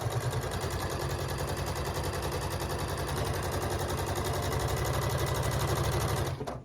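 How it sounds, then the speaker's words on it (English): Close, loud sewing machine stitching a quilt block at a fast, even rattle for several seconds, then slowing and stopping at the end. "Put your leader in and just start sewing."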